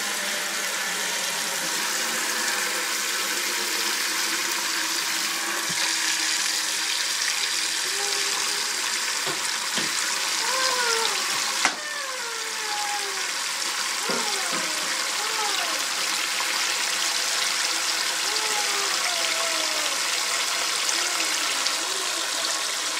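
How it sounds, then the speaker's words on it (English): Hot water runs steadily from a tap into a 5-gallon bucket for homemade liquid laundry detergent, a continuous broadband rush. Faint clunks and a soft voice are heard in the background. "I am going to fill it with hot water."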